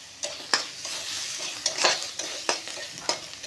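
A utensil stirs frying food in a pan for a rohu fish dish, making a steady sizzle broken by about half a dozen sharp, irregular scrapes and knocks against the pan.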